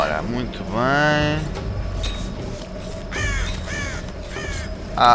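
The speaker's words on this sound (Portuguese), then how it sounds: "Um corvo." Crows caw in the Tomb Raider game: one long harsh call, then a cluster of shorter caws, over a steady low ambient hum with no speech.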